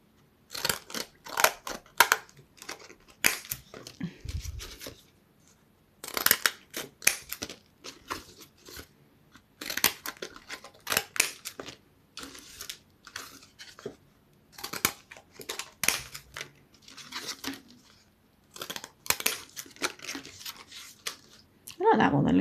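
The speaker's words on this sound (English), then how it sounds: "And then of course I love my Winky Wonky scissors." Winky Wonky scissors cut through paint-covered protection paper in repeated snipping, crunching strokes. A person talks between the cuts, close and fairly loud.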